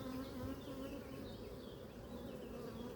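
Honeybees swarming around a hive nucleus on a hot day, a dense, continuous buzzing hum of many insects with individual bees droning past up close, and no talking.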